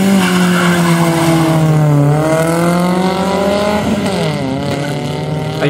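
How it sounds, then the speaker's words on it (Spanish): A Chevrolet Aveo GTI project car launches in a drag race: the engine revs hard and rises in pitch through gear changes, loud and close, with some tire noise under it. "ahora sí vamos a hacer el pique de los dos proyectos"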